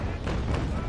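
Naval cannon fire in the Naval Action sailing-warship game booms as a loud, dense roar of heavy broadside shots that fills the whole moment, with no speech over it.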